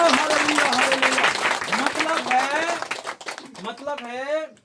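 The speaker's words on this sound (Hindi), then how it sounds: "ताली बजाएंगे" A congregation at a Christian revival healing prayer service in Haflong claps, a dense patter of hands that thins toward the end while a voice and singing carry over it.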